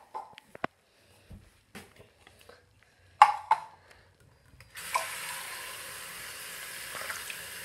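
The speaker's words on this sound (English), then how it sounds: "I'm gonna take water and put water in" Water runs and splashes steadily into a container for the last few seconds, following scattered clinks and handling noises.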